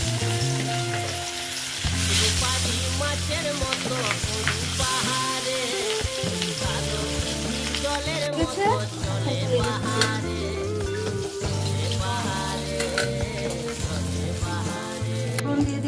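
Katla fish fry in a pan of hot oil, giving a loud, continuous sizzle close by with occasional stirring and scraping against the pan.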